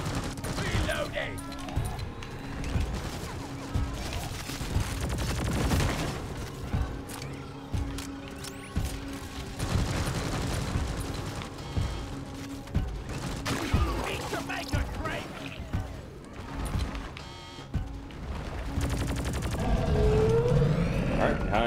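Video game turrets firing steady, rapid streams of shots with occasional booms, running continuously over a game soundscape while a voice talks over it.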